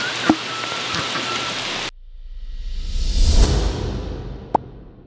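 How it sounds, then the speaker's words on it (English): Heavy tropical-storm rain pours down in a steady hiss, broken by a sharp cut and then a swelling whoosh of downpour, with a brief crack near the end. "it has been downpouring for the last 3 days"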